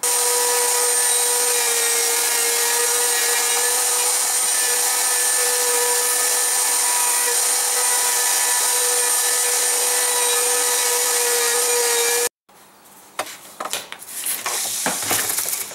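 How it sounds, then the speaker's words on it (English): Power tool machining a wooden flight-simulator yoke, likely a router table with a round-over bit, runs as a loud steady whine for about twelve seconds, then cuts off into quieter scraping and rubbing sounds. "I'm gonna sand it down and go over it with the router table. And with just a round over bit"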